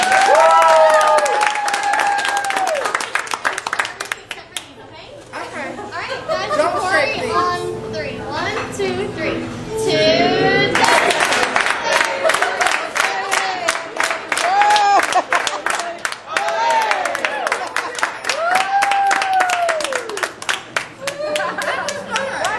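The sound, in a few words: party applause and cheering for a birthday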